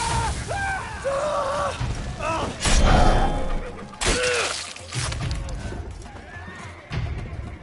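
Horses whinny in The Witcher 3: Blood and Wine, sharp neighs near the start amid clattering hooves, thuds and a crash, with voices talking over the commotion.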